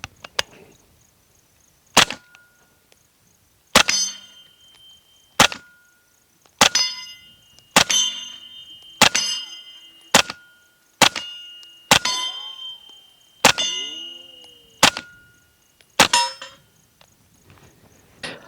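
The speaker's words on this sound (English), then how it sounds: "let's shoot some more of this Hush ammo" Suppressed 9mm pistol shots firing Hush ammunition through an Octane 9 suppressor, about a dozen sharp, close cracks spaced roughly a second apart, each with a short ringing tail.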